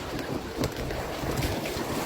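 Strong headwind while sailing roars across the microphone in continuous gusty buffeting, with water and boat noise mixed underneath, close and loud.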